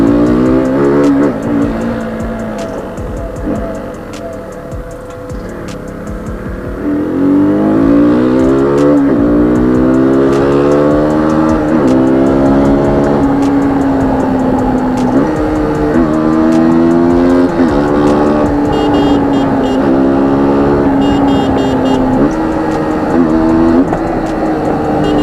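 A KTM Duke 200 motorcycle engine revs hard, its pitch climbing and dropping in repeated rising sweeps as it runs through the gears, loud and close throughout.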